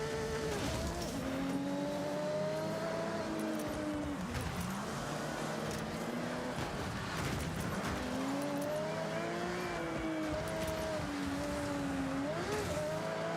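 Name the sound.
car engine at full throttle in video game Forza Horizon 6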